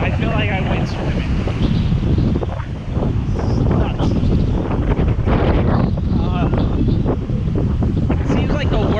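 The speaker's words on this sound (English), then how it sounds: "It seems like the worst of the wind is down, although it's still very windy." Strong gusts from Tropical Storm Isaias roar across the microphone on a street in Bensonhurst, Brooklyn, a loud continuous buffeting that barely lets up, with faint voices now and then.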